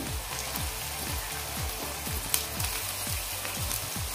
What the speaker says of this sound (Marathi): आता यामध्ये मी कारली घालते.